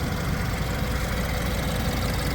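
A 2016 BMW 228i M Sport xDrive's 2-liter turbocharged four-cylinder engine idles steadily and close up, a dense, even mechanical hum with light ticking texture and no revving.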